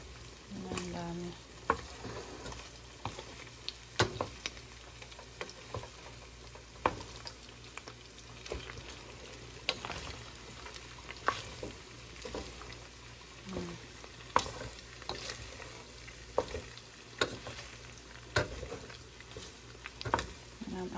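Pork fat for igado sizzles and spits in hot oil, a steady crackling fry broken by sharp pops and scraping stirs of a utensil in the pan.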